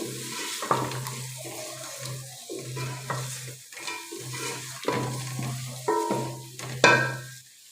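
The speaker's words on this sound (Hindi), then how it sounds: "और इसको भुनेंगे अच्छे तरीके से।" Boneless chicken pieces for chicken nehari frying in a pan, steady sizzle with repeated scraping stirs and clatters of the spoon, close and moderately loud with no talking.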